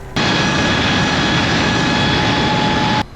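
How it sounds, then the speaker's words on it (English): A Sur-Ron 72-volt electric dirt bike climbs a steep hill, giving a loud, steady motor whine over rushing noise. It starts and stops sharply, with no talk. "going to do a hill test on the Sur-Ron 72 volt"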